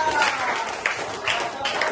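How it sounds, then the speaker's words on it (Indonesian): Classmates clap for Dinda in a classroom, a steady patter of many hands with a few louder bursts, close by and continuous through the whole stretch. "tepuk tangan buat Dinda"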